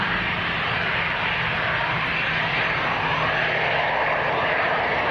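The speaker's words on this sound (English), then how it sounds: "Okay, next to go, we've got EasyJet. This is going out to Belfast. It's an A319." EasyJet Airbus A319 jet at Leeds Bradford Airport departing for Belfast, a continuous broad engine roar at moderate distance with a faint low hum beneath, steady throughout and without talk.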